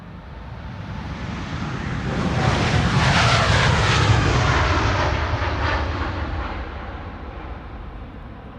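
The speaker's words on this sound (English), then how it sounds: "This is KLM 565, 78710 on its way to the capital of Kenya," A KLM Boeing 787-10 jet departs Schiphol for Nairobi as flight 565, its engine roar swelling to a loud peak mid-pass and then fading away, with no voices over it.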